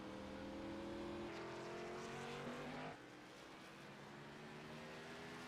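Race cars in an ARCA-type stock car race at Nashville Fairgrounds Speedway roar steadily as the field runs, engine tones rising and dropping as cars pass, with a brief drop in loudness midway, no talk.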